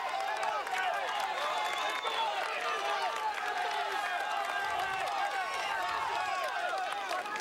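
A roadside crowd at the 2013 Paris-Roubaix cheers cyclists over a cobbled sector, a dense, steady roar of shouts, whistles and clapping that never lets up, with voices mixed into the din.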